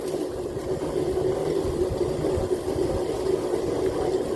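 A small, quiet motor runs steadily at barely opened throttle, a low continuous hum with a faint uneven putter and no voices.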